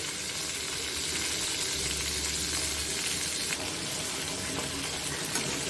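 Fish pieces frying in hot oil until reddish, a dense, loud, continuous sizzle and crackle heard up close with no talk over it.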